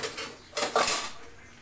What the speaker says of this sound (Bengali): তো আমি এটা এই ঢাকনা দিয়ে ঢাকলাম